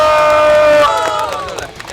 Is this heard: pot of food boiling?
no